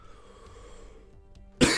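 A single sharp cough bursts out suddenly after a quiet stretch of faint room noise, close and loud, with a throat-clearing quality.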